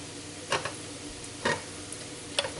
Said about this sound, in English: All right, let me stir